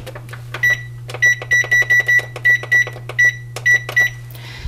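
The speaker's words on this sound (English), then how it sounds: "I'm going to put my timer on for 10 minutes." A kitchen timer being set for 10 minutes during bread making gives about a dozen short, sharp beeps in an uneven run over a steady low appliance hum.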